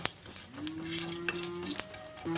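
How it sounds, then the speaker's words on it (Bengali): Bay leaves, whole cumin and asafoetida frying in hot oil, a soft crackling sizzle with small pops and a faint tonal hum, close and quiet, no speech. "এবার ফোড়নটাকে কিছুক্ষণ ভেজে নিচ্ছি।"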